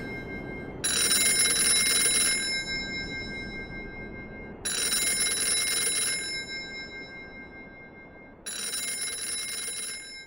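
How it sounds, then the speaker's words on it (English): An old telephone bell rings in three separate bursts spaced evenly apart, each a bright metallic trill lasting a couple of seconds, with quiet room hiss in the gaps. "And once in a while, over the long years, the phone rings."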